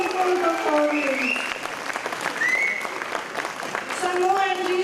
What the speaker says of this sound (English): A huge round of applause for that wonderful performance.